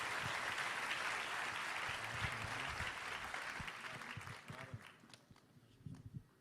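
A church congregation at a Brazilian evangelical inaugural class applauds, a dense, loud wash of clapping that holds steady for several seconds and then thins out as it fades toward the end.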